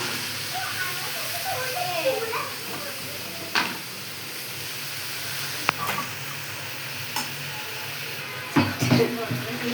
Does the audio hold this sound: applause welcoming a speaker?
no